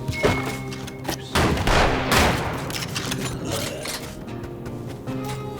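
Rapid gunfire with incendiary rounds in the western roguelite Colt Canyon, loud repeated shots in uneven bursts with thuds and crackling impacts, up close and with no talking.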